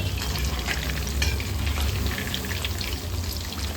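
Pork kabab frying in oil in a pan, one side cooking, giving a dense continuous crackling sizzle that stays loud and close for a few seconds with no talking.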